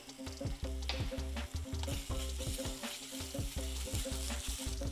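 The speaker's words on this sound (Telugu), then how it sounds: "ఉల్లిపాయ బాగా వేగిందండి, కొద్దిగా అల్లం వెల్లిపాయ వేసుకుందాం" Onions frying in oil with ginger garlic paste, green chillies and turmeric for methi chicken, a steady close sizzle with bursts of crackling and rhythmic stirring scrapes.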